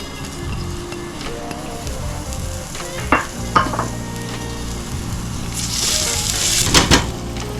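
Onions and garlic sizzle and crackle steadily in a pot for a one-pot kielbasa stew, loud and close, with stirring scrapes and taps and a brief rise in hiss near the end.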